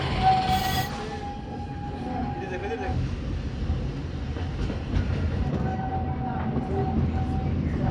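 A steam train at Disney World's Magic Kingdom rumbles along steadily with rolling wheel noise and a brief high whistle near the start, with people talking over it.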